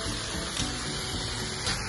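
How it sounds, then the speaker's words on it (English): Steady hissing spray of water sprinkling down from an overhead fixture onto a pool slide, a continuous rushing wash at moderate level with no voices. "They also have a part in the overhead that sprinkles down when they slide down in the pool."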